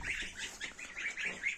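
Geese kept alongside newly bought chickens on a small poultry farm give a series of honking, nasal calls, about six or seven in quick succession at moderate loudness, with no talk over them.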